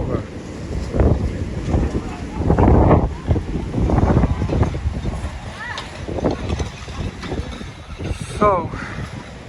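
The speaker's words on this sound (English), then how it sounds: "The wind blew her over." Strong wind buffeting the microphone on a city street during a cold front, loud gusts rising and falling, with people talking nearby throughout.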